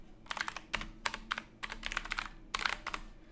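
Someone types a command on a computer keyboard, producing quick, close clicking keystrokes in short irregular bursts, fairly quiet with no voices.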